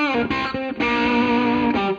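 Electric guitar through a BOSS DS-1 distortion pedal set at about 11 o'clock, a few gritty chords played in quick succession, loud and close with a crunchy, hairy edge.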